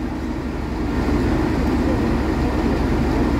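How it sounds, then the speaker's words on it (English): A Class 37 diesel locomotive on a charter train at Birmingham New Street station idles with a steady, heavy low rumble and engine drone that holds close and constant throughout. "I seem to have stumbled across a 37 here at Birmingham New Street on a charter train."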